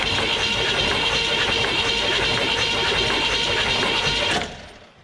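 The starter cranks the engine of a one-owner 1974 Chevrolet 4x4 farm truck, abandoned for 15 years and with a flat cam lobe, a loud, steady churning whir that runs about four seconds and then stops.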